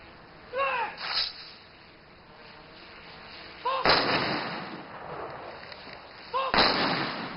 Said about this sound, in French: Un groupe de soldats a tiré des coups de feu en l'air en hommage.